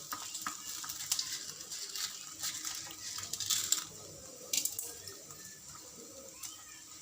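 Mustard seeds and chana dal fry in a little hot oil for a South Indian poondu kulambu, giving a soft continuous sizzle with scattered sharp pops and crackles, close and fairly quiet.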